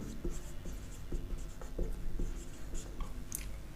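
Pen or chalk writing out a maths working during a calculus lesson, quick scratchy strokes and taps in short bursts over a steady background hum.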